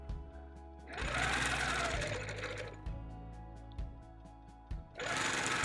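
A sewing machine stitches a bird quilt panel in loud close bursts of rapid needle chatter, stopping briefly between runs, with quiet clicks in the pauses.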